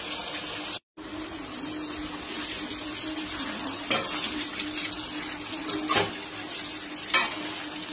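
Cauliflower florets deep frying in hot oil in a kadai: loud, continuous bubbling sizzle with a brief drop-out near the start and a few sharper crackling bursts later on.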